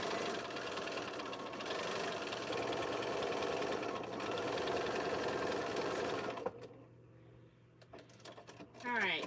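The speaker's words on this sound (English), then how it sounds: "Alright, so I just top stitched that." A sewing machine top stitching a bag, running in a long steady whirring stitch for several seconds, then stopping as a voice begins to talk.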